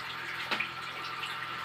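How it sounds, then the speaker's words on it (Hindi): Water runs steadily from a pump powered by a 150-watt solar panel as a tank fills. The flow is a faint, even hiss with one brief splashy surge. "तो इस पे हमारा ये सोलर पंप चल रहा है और इसका हम पानी ऑन करेंगे।"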